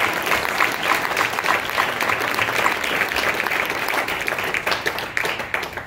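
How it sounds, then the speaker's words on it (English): An audience at a high school jazz band concert gives a soloist a sustained round of applause, dense and fairly loud throughout, with scattered individual claps standing out before it thins slightly near the end. "So how about a round of applause?"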